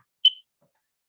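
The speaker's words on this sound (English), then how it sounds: "you hear the alarm go off, you know it's working" A combined smoke and carbon monoxide alarm gives one short, sharp, high-pitched test beep, close and alone in otherwise silent surroundings.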